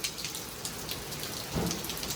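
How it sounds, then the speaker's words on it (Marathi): Rain falls steadily outdoors during the monsoon, a continuous hiss of drops hitting surfaces at moderate distance, with no voices. "सकाळपासनं पाऊस पडतोय"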